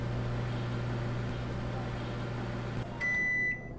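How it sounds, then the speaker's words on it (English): A microwave oven in the VR game Job Simulator hums steadily at close range for a few seconds, then a short, clear electronic beep rings out as it stops. "let me get a shot of the microwave running"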